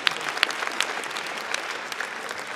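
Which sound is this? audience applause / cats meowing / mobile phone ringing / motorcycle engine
audience applause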